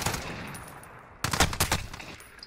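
Gunfire in the video game Modern Warfare: after a quieter stretch of game noise, a sudden close volley of rapid automatic shots rattles in quick bursts, loud and alone without talk.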